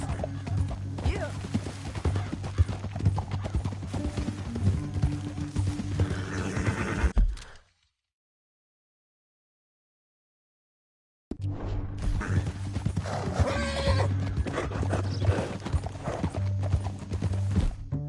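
Horse hooves clip-clop steadily in Red Dead Redemption 2, with occasional whinnies and faint voices, cutting to silence midway before the hoofbeats resume close and loud.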